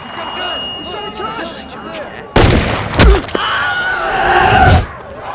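Loud burst of gunfire in a Saints Row 2 cutscene, a broadband crack followed by a heavy thump and a sustained roar of shots, over a voice speaking before the burst.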